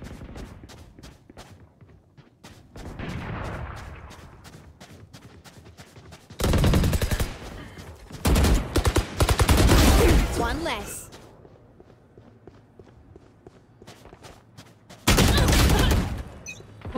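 Gunfire in a role-play video game: bursts of rapid automatic shots in several loud clusters, separated by quieter stretches of movement and faint footsteps, with a voice talking at times.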